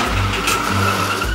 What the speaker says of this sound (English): the cars come out of the garage